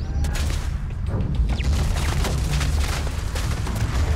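Sustained gunfire from turrets in the video game Starfield, a loud dense rattle of overlapping shots with heavy low thumps, steady throughout.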